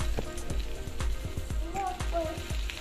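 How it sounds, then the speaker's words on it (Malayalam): Sliced onions sizzling in a clay pot for chicken curry, a steady soft frying crackle with scattered pops, fairly quiet and close, with faint background voices. "നമുക്കിതിലേക്ക് അരിഞ്ഞു വെച്ചിരിക്കുന്ന സവാള ചേർക്കാം."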